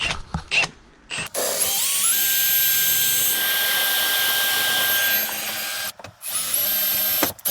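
A power drill bores through a bolt on a GMC S15 truck, whining steadily for several seconds with rising pitch, starting and stopping in short bursts at close range.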